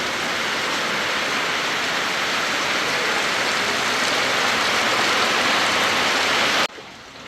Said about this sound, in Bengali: কি পরিমাণে বৃষ্টি শুরু হয়েছে দেখেন